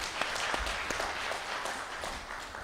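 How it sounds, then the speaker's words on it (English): Applause from an audience at a conference, a steady dense patter of many hands lasting throughout with no talking over it. "A big round of applause for Andre."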